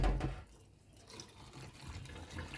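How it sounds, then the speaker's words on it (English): Hot scald water poured off boiled salted meat for Jamaican pepper pot soup, a short splash and gurgle of liquid that is loud at first, then trails into a low, quieter run and dribble. "So I just throw off the hot water"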